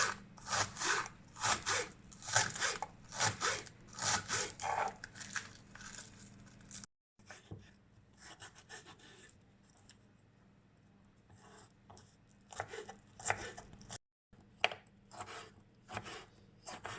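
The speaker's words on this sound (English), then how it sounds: "Chopping the spring onions." Knife chopping spring onions on a board in steady, rapid strokes, close and crisp, with two brief breaks and a slightly quieter, looser stretch in the middle.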